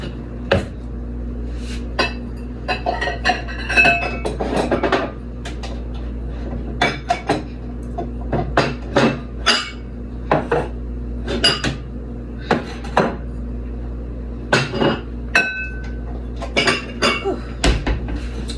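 Dishes and a bowl clatter and clink during cleanup in a home kitchen after cupcake baking, a steady run of sharp knocks and chimes close by, with no talking.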